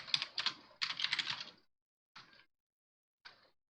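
Fingers type a folder name on a computer keyboard in Windows: two quick bursts of rapid, close keystrokes followed by two single isolated key presses, with quiet gaps between them.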